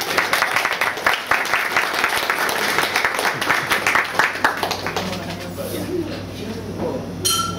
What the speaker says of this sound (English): give yourselves a round of applause and give Daniel a round of applause